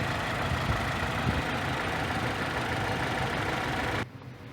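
The 2.2-litre Ecotec four-cylinder engine in a 2004 Saturn Ion base model idles close by in a steady, even drone with no talking, then cuts off abruptly near the end.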